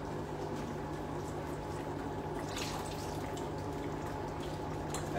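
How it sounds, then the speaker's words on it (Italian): Fish soup sauce simmering in a small pot, a continuous soft bubbling and sizzling hiss with faint drips, steady and close with no talking. "ragazzi, adesso il sugo sta andando e ci aggiungiamo i pesci."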